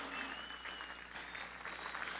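An audience at a seminar marking 100 years of the Bolshevik Revolution applauds in a steady, faint, distant patter of clapping for a little over two seconds, with no talk over it.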